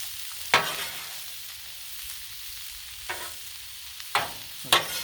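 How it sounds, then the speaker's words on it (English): Kielbasa searing on a Blackstone flat-top griddle, a soft continuous sizzle broken by a few sharp spatula scrapes and taps spaced a second or so apart, close and without speech. "We're starting to get the brown, the sear on our kielbasa."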